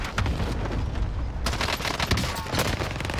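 Gunfire in Call of Duty Warzone: dense, loud bursts of rapid shots and booms that carry on steadily through the clip, with no voices over them.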